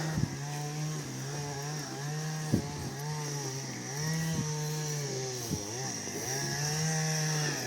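A chainsaw cuts trees on the grounds of a Truskavets sanatorium in the Carpathian region, its engine droning steadily at mid distance, the pitch rising and falling as it bites into the wood.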